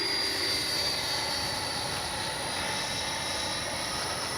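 An FMS 80mm F-86 RC jet with its landing gear down makes a pass, producing a loud, steady electric ducted-fan whine and rushing roar that holds constant throughout.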